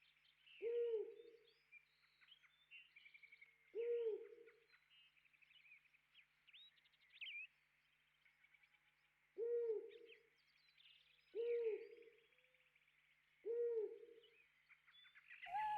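Low, soft owl hoots repeat in paired calls about every few seconds, with steady higher chirping songbirds underneath, from the farm countryside of the Harvest Moon: Save the Homeland video game.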